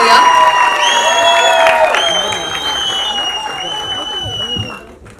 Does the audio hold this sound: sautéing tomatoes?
no